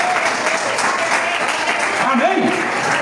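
A church congregation applauds in a steady, dense wash of clapping filling the room, with voices calling out over it near the end.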